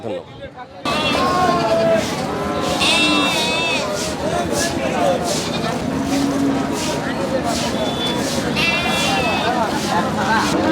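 Black Bengal goats bleat repeatedly over a busy crowd of chattering voices at a noisy open-air livestock market in Ullapara, Sirajganj, Bangladesh, before Eid.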